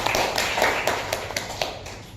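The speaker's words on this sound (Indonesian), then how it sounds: "Nah, tepuk tangan ya buat Bana." Children clap together in rhythm during a lesson, producing a series of light, evenly spaced hand claps at moderate volume, heard alone without talk.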